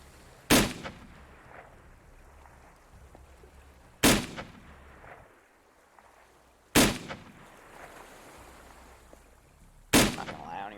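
Gunfire in the tactical shooter game Squad during a Swedish versus Russian insurgents match: four loud, sharp single shots spaced a few seconds apart, each with a short echoing tail over quiet background.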